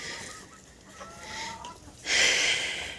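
Chickens cluck and murmur nearby in a farmyard while eating dry bean leaves, with a louder burst of noisy flapping or squawking toward the end.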